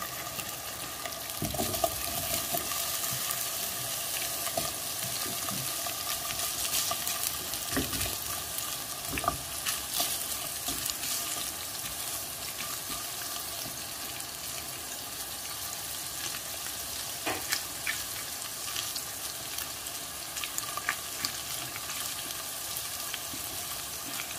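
Paneer pieces frying in a small amount of oil make a continuous crackling sizzle, with occasional sharper pops and clinks from stirring; no one speaks.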